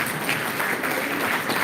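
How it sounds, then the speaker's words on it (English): An audience at a climate change panel discussion applauds, a dense, steady wash of clapping from many people throughout, fairly loud with no talking. "So a round of applause for him again."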